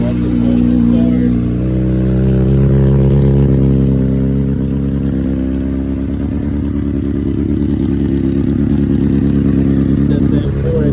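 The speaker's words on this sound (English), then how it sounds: "Watch the motor start." 2013 Honda CBR 600 RR sport motorcycle with a four-pipe exhaust, starting cold and settling into a loud, steady, close idle with a throbbing low drone throughout.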